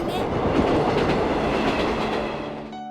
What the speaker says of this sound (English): the train cuts in and blocks his view of her